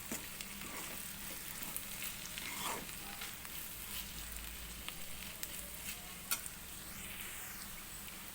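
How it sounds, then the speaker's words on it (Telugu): Ginger garlic paste fries with onions in a pan for a spicy masala egg curry, giving a steady, close sizzle with occasional light ticks and scrapes. No one talks. "అల్లం వెల్లుల్లి పేస్ట్ పచ్చివాసన పోయాక బాగా ఫ్రై చేసుకోవాలి"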